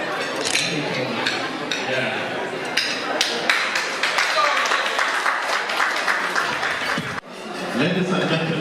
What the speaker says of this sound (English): Let's give a round of applause. Please clap.